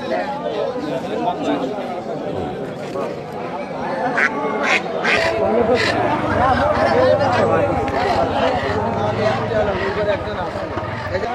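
Ducks quack repeatedly at a busy rural weekly village market, with a close cluster of calls amid crowd chatter and people talking nearby.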